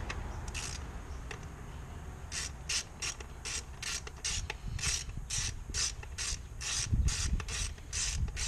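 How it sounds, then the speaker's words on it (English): A 7mm screw being tightened on a Mustang GT engine, with a rapid series of close ratchet clicks in bursts over faint background noise. "you will just snug that 7mm screw back up"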